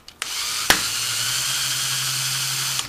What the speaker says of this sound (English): Now the drill, you just send it in at an angle and go very slow.